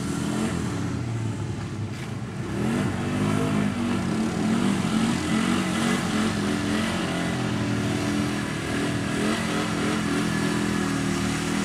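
An ATV engine revs hard through deep mud at a mud park, a loud, steady mid-pitched drone that rises and falls with the throttle and runs continuously, with no talk over it.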